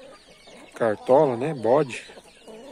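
A young pullet of the same breed as the nearby hens gives a few close, wavering clucking calls in a short run, with people talking softly around it.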